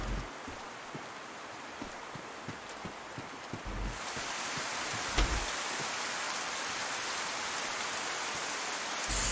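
Steady rain pouring down in DayZ, a dense hiss that grows heavier halfway through, with scattered soft thuds and taps underneath.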